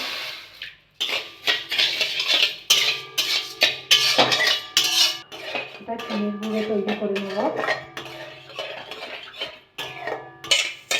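Sugar and water are being stirred as they melt in a pan for Mathura-style peda sandesh, giving close, repeated clinks and scrapes of a utensil against the pan in an uneven, continuous rhythm.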